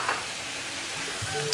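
Fried chicken pieces tossed in spice paste in a hot pan, with soft scraping stirs over a steady oily sizzle, close and moderately loud, no voices.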